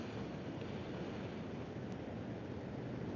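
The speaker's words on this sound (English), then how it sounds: "Look at those rolling waves." Rolling ocean waves wash onto a beach at low tide in a steady, unbroken surf roar, heard alone without voices.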